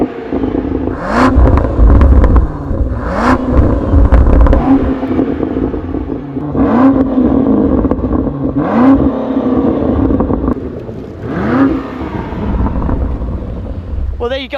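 A new Range Rover V8 fitted with a QuickSilver Sound Architect Sport exhaust revs repeatedly and loudly, about six sharp bursts spread across the clip, with wind buffeting the microphone between them.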